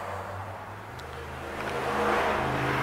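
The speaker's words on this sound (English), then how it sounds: "you got to excuse the traffic" Cars accelerate past on a road about 50 feet away, one engine note dropping as it fades and another rising into a louder, closer rush of tires and revving, heard with no talking.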